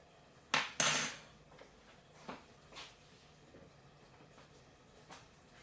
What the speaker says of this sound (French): Je vais mélanger un petit peu.